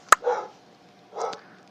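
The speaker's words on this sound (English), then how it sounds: "my neighbor let their dog out and their dog's barking" A neighbor's dog barks outdoors at a moderate distance: one sharp bark followed by a brief woof, then a second bark about a second later, with quiet gaps between them.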